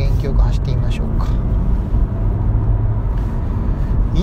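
A Honda Insight hybrid with a 1.5-litre engine is driven briskly along a winding road, its low road and engine rumble steady and close beneath someone talking throughout.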